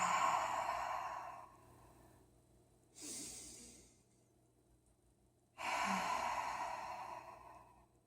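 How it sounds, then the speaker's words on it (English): Deep throaty ujjayi breaths during yoga practice: three long, audible breathy exhales through a constricted throat, close and fairly soft, separated by quiet pauses, with no talking. "this breath is called ujjayi breathing, inhaling deeply, exhaling"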